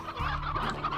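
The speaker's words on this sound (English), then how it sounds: "Oh, there's a chicken though." Chicken clucking in the Slime Rancher video game, a steady fowl cackle running through the whole second, fairly close and continuous with no talk over it.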